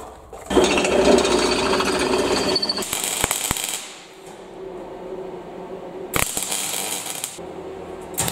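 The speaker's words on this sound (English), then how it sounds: "We're going to drill that out now" A power drill whines in bursts against a metal oil burner pipe, with harsh grinding stretches, sharp clanks, and quieter rumbling gaps between runs.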